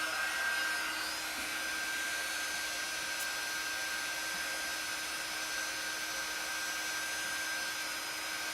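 A hair dryer blows steadily to dry fresh chalk paint finish on a wooden table, a continuous airy whoosh with a faint whine, close and unbroken throughout.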